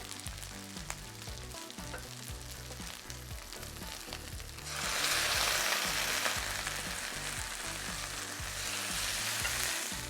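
Soup pours into a hot pan of Calrose rice crisping on the bottom for seafood pao fan. A moderate sizzle surges into a louder, fuller hiss partway through, with music playing beneath.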